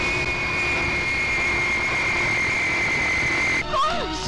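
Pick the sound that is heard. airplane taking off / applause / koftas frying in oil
airplane taking off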